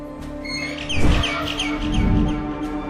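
Bright, repeated bird chirps in the video game Garten of Banban 6 ring out over a steady synthetic hum, a series of quick tweets close and clear.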